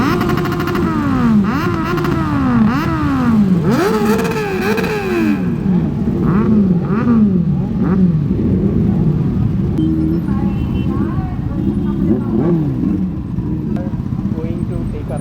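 A 2022 Kawasaki ZX-10R superbike and an electric bike ride along a road at a hospital riding event, the engine droning and rising through gear changes under constant wind roar, close and loud.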